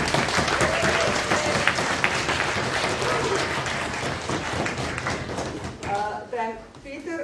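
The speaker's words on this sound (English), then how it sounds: "Give her a round of applause" An audience at a university debate evening gives a round of applause for a debater, loud dense clapping that gradually thins out, with voices rising under it near the end.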